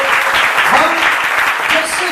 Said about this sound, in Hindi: प्रभु के लिए एक जोरदार ताली हो।